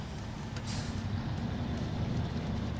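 Truck engine in the video game SnowRunner, a steady low rumbling drone with a short hiss burst early on, heard alone at a moderate level.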